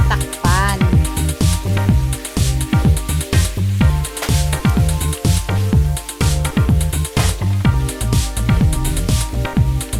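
Half a kilo of chicken cooking in a pot for kalderetang manok, Filipino chicken caldereta, with loud sizzling and bubbling, and rhythmic clanks of stirring and a pot lid under background music.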